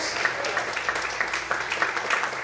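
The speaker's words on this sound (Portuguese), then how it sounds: "Aplauda o Senhor bem forte" A church congregation clapping during a Sunday morning service, a steady, moderately loud patter of many hands with a few sharper claps standing out.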